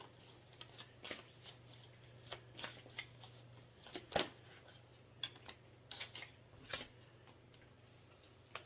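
A deck of tarot cards being shuffled close by, soft riffling and snapping bursts with crisp card clicks, quiet and irregular over a low steady hum.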